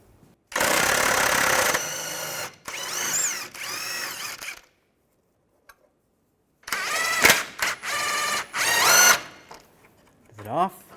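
Bursts of a power impact tool whir and rattle as a 21mm socket spins out cradle bolts on a 2005-2010 Chevrolet Cobalt during clutch replacement, loud and close, with pauses and a brief voice near the end.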